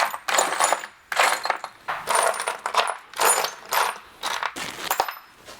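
Loose bolts clatter and jangle as a hand rummages through a Subaru bolt box, in several bursts of metallic rattling with short pauses between, close and fairly loud.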